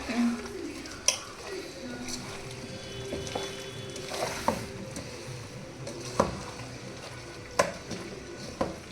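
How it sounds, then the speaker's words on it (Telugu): Fish pieces are mixed by hand with ginger paste, salt and chili, making soft, wet squelching and stirring noises, close and fairly quiet, broken by a few sharp clicks. "ఇప్పుడు ముక్కలకి పట్టేటట్టు బాగా కలుపుకోవాలి."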